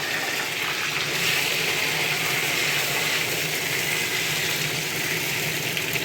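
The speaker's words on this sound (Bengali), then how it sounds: "কড়ায় তেল দিয়ে দিলাম, প্রথমে একটু কুমড়োগুলো একটু ভেজে নেব" Pumpkin pieces fry in oil in a kadai for kumror chhokka, giving an even, continuous hissing sizzle held close and loud throughout, without speech.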